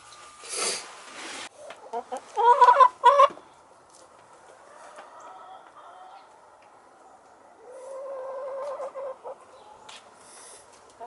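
Backyard chickens cluck and call while scratching and digging in the dirt, with a cluster of louder clucks early on and softer, steadier murmuring later, heard close by without speech.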